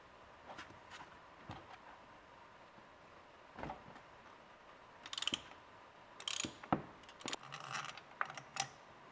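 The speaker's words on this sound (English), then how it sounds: "I'm going to go ahead and remove the first spark plug. I'm using a 5/8 spark plug socket with a rubber sleeve." A ratchet with a 5/8 spark plug socket loosens a spark plug on a Porsche Cayenne engine, giving sparse clicks that build into quick close-up bursts of ratcheting.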